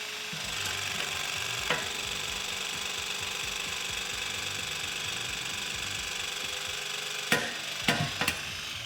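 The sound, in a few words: Milwaukee M18 Force Logic knockout tool punching a 2-inch knockout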